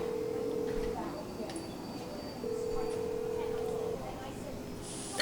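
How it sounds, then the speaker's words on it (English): A telephone rings down the line during an outgoing call, two long steady tones with a gap between them, faint and thin against quiet room noise. "I'm calling number on the website. It's ringing."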